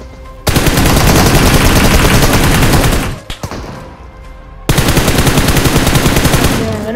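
Loud, sustained automatic gunfire from a PUBG-style battle royale game rattles on in dense bursts, breaking off briefly near the middle before resuming at full intensity.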